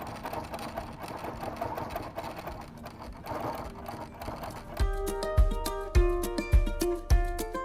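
A sewing machine runs with a tight stitch along the edge of a rough-edge appliqué, first a busy mechanical whir, then a slower, louder rhythmic chug with regular thumps of the needle.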